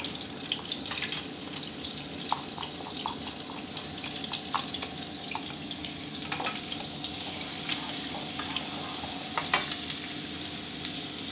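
Minced garlic frying in salted butter over medium heat: a continuous close sizzle dotted with small crackling pops and occasional stirring clicks, with no talking.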